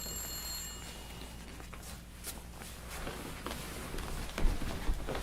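A telephone bell ringing indoors in a home scene from a feature film, steady and moderately loud, with faint footsteps and room noise around it and no talk.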